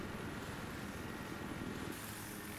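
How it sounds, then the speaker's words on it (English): A helicopter in a Battlefield 3 multiplayer match on the Armored Shield map: a steady, dense rotor and engine roar hovering nearby throughout, broadband and unbroken, with no talk. "Attack chopper over Echo."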